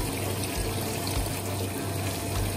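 Fresh grape juice trickles and splashes out of a wine press at a natural-wine château in France, a continuous close liquid rush and patter with steady loudness and no speech over it.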